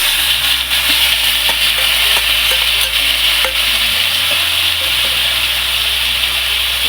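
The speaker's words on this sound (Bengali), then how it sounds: "একটু ভেজে নিয়ে এগুলো দিয়ে নাড়তে থাকবো।" Vegetables — bitter gourd, drumstick, potato and eggplant — are stirred in a pan with ginger and cumin paste, a steady close sizzle with scraping strokes of the spoon running throughout, no voices.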